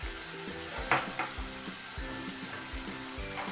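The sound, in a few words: chickpeas frying and being stirred in a pan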